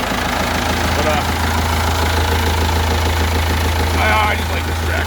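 A Ford 8600 tractor engine idles close by, holding a steady, deep rumble with an even mechanical throb that runs unbroken from start to finish.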